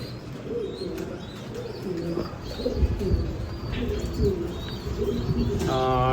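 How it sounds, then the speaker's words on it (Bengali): Red Lahori pigeons coo and murmur steadily over a noisy background, with a few chirps and a brief flutter near the end. "আমার রেড লাহরি কবুতর খুব সুন্দর খাবার খাওয়াইতেছে"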